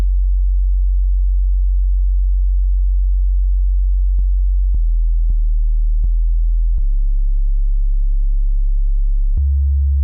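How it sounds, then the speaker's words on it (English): Sustained low sub-bass sine wave from a Serum synthesizer, a loud pure hum that holds steadily and shifts pitch slightly at several points, with brief clicks at the note changes. "Let's move on to the sub, really easy sine wave from Serum"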